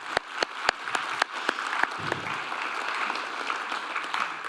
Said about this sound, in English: So let's give a round of applause for them as well for contributing.